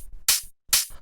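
Two crisp, punchy hi-hat hits, each a bright short burst with a tight fast decay, layered over a soft low thump, in a garage house beat.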